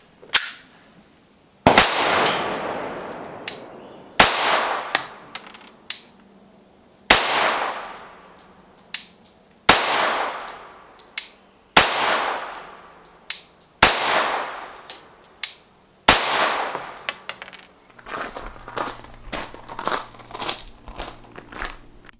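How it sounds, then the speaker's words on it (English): A Glock 22 pistol fitted with an Advantage Arms conversion kit fires seven sharp, loud shots at steady intervals of about two seconds, each followed by a short ringing decay, then clattering handling noises follow. "I'm going to load up about 7 shots here, cycle them all through."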